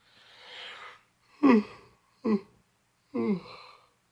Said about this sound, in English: I cannot stop yawning.